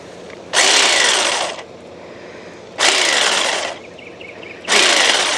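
Battery-powered trimmer cutting hedges, three loud bursts of buzzing, each lasting about a second, with short quieter gaps between them, close and without talk.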